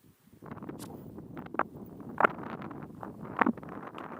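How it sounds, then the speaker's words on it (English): Strong wind buffeting a microphone outdoors in Somerset countryside, a continuous low rumble broken by sharp gusty thumps and crackles, close and fairly loud. "Very, very, very, very windy."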